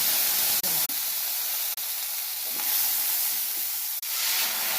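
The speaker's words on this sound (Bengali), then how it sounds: "এই যে তেলটা দিয়ে দিলাম, ফোড়নে সর্ষে ফোড়ন দিলাম, আমটা তুলে দিলাম।" Mustard seeds and raw mango sizzle in hot oil, making a loud, steady frying hiss with a few sharp pops and crackles, alone and close.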